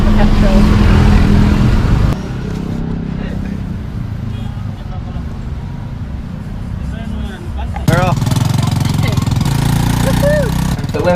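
A motorbike-powered trike, a backwards tuk-tuk, idling on a street in Makassar, Sulawesi, a steady low engine rumble close by, with a louder burst at the start and again near the end.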